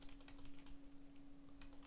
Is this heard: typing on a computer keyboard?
yes